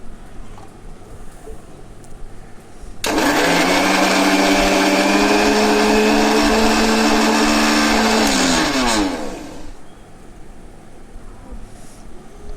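An electric grinder blends green chillies with a little water into a paste, a loud steady whirring that runs for about six seconds, then winds down and stops.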